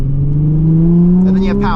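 A car with a manual transmission downshifting into second gear, its engine droning loudly and rising steadily in pitch as it revs, heard from inside with a voice talking over it.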